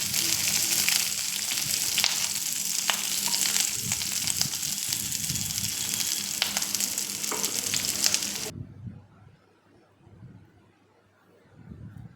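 Mushrooms being stir-fried in a kadai give a loud, crackling sizzle with occasional stirring scrapes for about eight seconds, then the sound cuts off sharply, leaving a quiet room.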